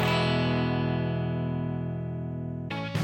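A single major chord rings out and sustains loud and steady, layered with effects such as distortion, for nearly three seconds before a brief new attack at the end; no voices.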